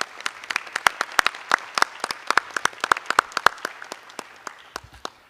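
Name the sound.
audience applause at a school board meeting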